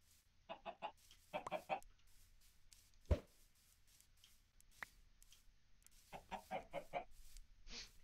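A Minecraft chicken clucks in short bursts of quick clucks, repeated in three clusters with a sharp click between, faint over near silence.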